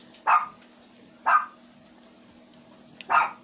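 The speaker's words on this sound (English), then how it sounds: "sorry about that, the dog's yapping" Three sharp, separate yaps from a small dog, spaced about a second or more apart, close and fairly loud against a quiet room with a faint hum.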